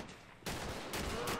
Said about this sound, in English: they're just peppering them with bullets